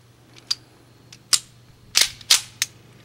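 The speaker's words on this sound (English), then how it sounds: "And we're going to shoot and see what we got." A Colt Combat Unit pistol fires a handful of sharp, cracking shots in quick irregular succession, heard from a slight distance against a quiet background.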